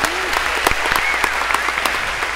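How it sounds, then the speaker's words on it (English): A lecture hall audience applauds a volunteer at a computer science lecture on algorithms, with crisp individual claps standing out from steady clapping and a brief whistle heard over it. "And a round of applause"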